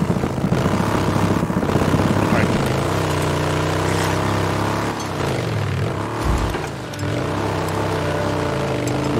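Steady engine drone of a motorcycle ridden in the video game Days Gone, continuous and fairly loud with shifting pitch as it travels, with a voice talking over part of it.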